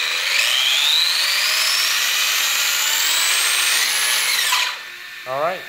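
Electric RC car motor driven by a KO Propo MC-8 transmitter and Hobbywing ESC, a loud steady high whine that rises smoothly in pitch, then winds down and briefly revs again.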